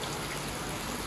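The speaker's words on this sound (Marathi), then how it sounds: "गोवा मध्ये मुसळधार पाऊस चालू झालेला आहे" Heavy monsoon rain in Goa falls as a dense, continuous hiss and patter, loud and steady across the brief moment, with no voices.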